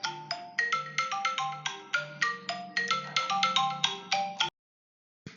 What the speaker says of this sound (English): I'm sorry about my phone ringing on the end of that slide.